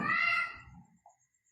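A young civet cat calls inside a house: one short, moderately loud mewing cry that fades out, followed by a faint brief squeak in near silence.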